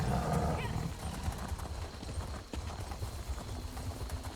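Horse hooves clip-clop in a steady, continuous rhythm as a mount is ridden in the fantasy video game Elder Scrolls Online, on High Isle, with the thudding steps fairly close and loud throughout.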